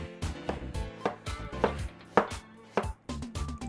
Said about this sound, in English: Nice thin slices of our radish.